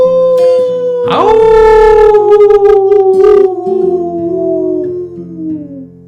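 A man imitates a wolf howl up close and loudly, one long voiced howl that rises sharply, holds, then slides slowly downward, with a short yip before it.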